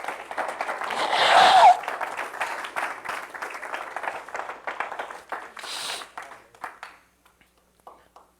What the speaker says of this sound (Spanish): Regáleme un aplauso para el Señor.